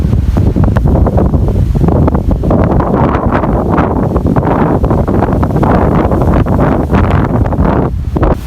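Cyclone-driven sea waves pound the shore at Point Pedro while strong wind roars across the microphone, a loud, unbroken wash of surf and gusts with no one speaking.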